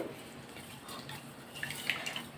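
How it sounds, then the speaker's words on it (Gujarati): Rice being rinsed in water for a traditional Gujarati dish: a soft, steady wash of splashing and sloshing at close range, with a few brighter drips and swishes toward the end and no talking. "તો પહેલાં આપણે ચોખાને સારી રીતે ધોઈ લેશું."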